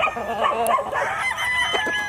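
A pure Pumpkin Hatch gamefowl rooster at a Batangas game farm gives a loud, close crow that lasts about two seconds, and no one speaks over it.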